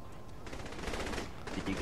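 Rapid gunfire from dual pistols in the video game Saints Row the Third crackles in a quick continuous stream of shots, fairly faint, with voices faintly mixed in.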